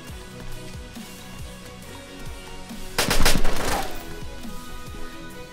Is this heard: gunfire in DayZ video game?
yes